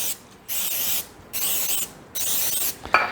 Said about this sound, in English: I'm going to spray at least 2 of them here